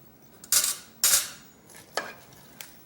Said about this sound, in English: Now stir that up.